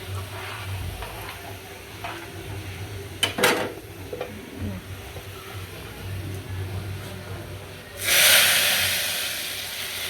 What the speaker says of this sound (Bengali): এখন ডালটা ঢেলে দিব।